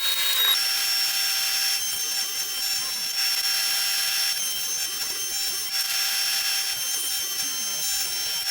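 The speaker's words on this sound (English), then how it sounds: "I can cut out some additional strips of maple to encase the pieces" A power saw cuts strips of maple wood in a shop, a loud, steady high-pitched whine running continuously with slight shifts in pitch as the blade moves through the boards.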